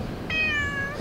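A grey cat meows once, close by and clear, in one rising-then-falling call, during a winter backpacking camp on an island by the sea.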